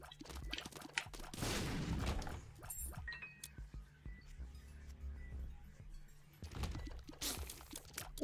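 Explosions in The Binding of Isaac Afterbirth, a loud blast around two seconds in and another burst near seven seconds, with clinking game effects and quieter stretches between.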